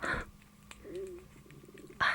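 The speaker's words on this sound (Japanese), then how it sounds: "すいません、お腹が鳴っちゃった。" A quiet stomach growl rumbles for about a second, a faint pitched gurgle in a hushed whispering-style setting, bracketed by brief louder rustles at the start and end; no talking.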